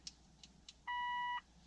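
A Mitsubishi Outlander PHEV sounds a single clear electronic lock beep, about half a second long, after a few faint clicks in a quiet cold setting.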